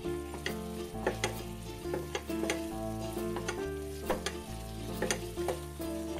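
Moong dal halwa being stirred in a wok with clove and cardamom powder: repeated scraping strokes in a loose rhythm over a steady background hum, with no talking.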